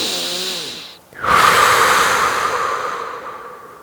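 Breathing during a yoga session: a voiced exhale fades out, then after a brief pause a long, loud, close breath out through the nose or mouth trails slowly away.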